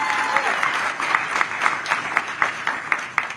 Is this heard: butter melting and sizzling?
no